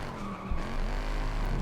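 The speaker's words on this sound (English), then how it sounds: "Early braking through the checkpoint." Car braking hard with tire squeal in Forza Horizon 5 racing game, a short close screech over the engine drone, rising briefly midway.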